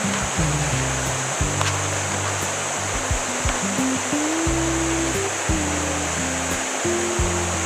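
Clear river water flows steadily at a forest camping spot, a constant close rush with irregular low tonal hums layered beneath, with no one talking.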